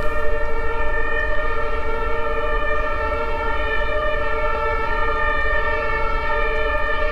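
A loud, steady siren wails continuously with a sustained multi-tone drone over a low rumble, unbroken throughout.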